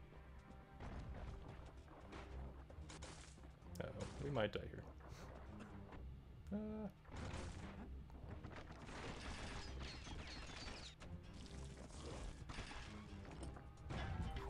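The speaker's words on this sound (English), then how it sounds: "That was a lot of explosions." Explosions and crashing blasts from combat in the action video game Bastion, played on an iPad, hitting in a dense, repeated barrage over a steady background, with a voice talking over the action.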